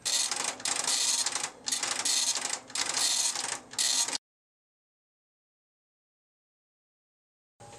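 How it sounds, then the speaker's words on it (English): A 7-wire dot-matrix printhead on an IMSAI 8085 serial printer with a typewriter ribbon buzzes loudly in three rapid bursts with short gaps, then stops into silence. "Although it prints both upper and lower case, the lower case characters do not have descenders because the printhead has only 7 solenoids and print wires."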